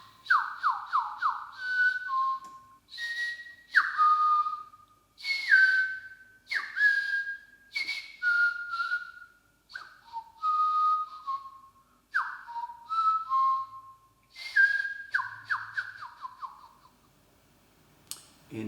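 A small Māori hue gourd instrument is blown to imitate tui birdsong, giving a run of short whistled notes with quick downward slides and gaps between phrases, close and clear with no talk.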